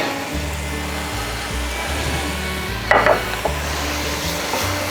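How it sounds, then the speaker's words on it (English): Minced garlic sautéing in a hot pan with browned meat for Texas chili, a steady sizzle under a low stovetop hum, with a brief scraping stir and clatter partway through. "Saute this just for a few seconds before we start mixing it in with the meat"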